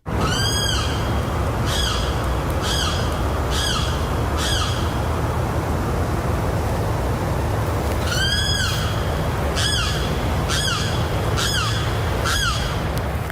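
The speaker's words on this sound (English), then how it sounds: "he has got a bird outside of his window, and this thing is causing all kinds of havoc" A bird squawks loudly outside a window, recorded outdoors, in two bursts of four or five harsh, evenly spaced calls over a steady background hiss.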